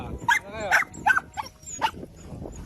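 Several sharp dog barks in quick succession from many dogs on an island, fairly close, with chatter and background noise underneath.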